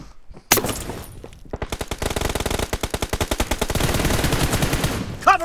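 Rapid automatic gunfire from a team deathmatch shooting video game, a long rhythmic burst of closely spaced shots after a single sharp crack, loud and continuous until the end.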